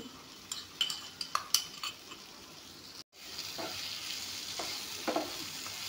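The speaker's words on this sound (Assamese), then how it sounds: "এয়া চাওক, ধুনীয়াকৈ ভজা গৈছে।" Vegetables frying and being stirred in a pan for an Assamese bhaji, with scraping utensil clinks over the first half, a brief pause, then a steady loud sizzle with occasional stirring.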